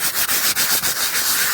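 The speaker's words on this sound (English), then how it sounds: "rid of the surface rust just by sanding it with this" 80-grit sandpaper rubs surface rust off a car body panel in quick, close, rhythmic strokes, each pass a loud, harsh scratch.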